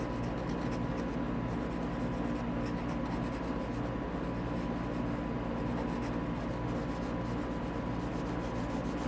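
Pencil sketching on sketchbook paper, a steady soft scratching and rubbing of graphite strokes running continuously and close up, with no voices.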